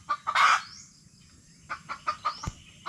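An angry mother hen gives a loud squawking burst, then a run of sharp, rhythmic clucks, close up with quiet surroundings.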